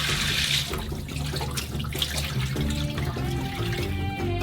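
Water is drained from a pot of boiled potatoes, a steady pouring and splashing stream close by that gurgles and trickles throughout, with light clinks of the pot.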